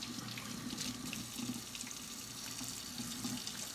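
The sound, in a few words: washing hands under running tap water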